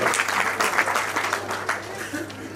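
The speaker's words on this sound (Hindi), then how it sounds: "बहुत जोरदार तालियां इनके लिए बजा रहे हैं।" An audience at a community book launch ceremony applauds an honoree, a dense continuous wave of clapping from many hands that swells and slowly fades, with a steady low hum beneath.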